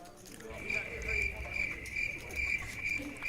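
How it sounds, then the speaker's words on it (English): Crickets chirp in a steady, regular pulse of high trills repeating about every half second, faint and a little distant, inside a bunker, with a low murmur of voices underneath. "Thought we had crickets all over the bunker"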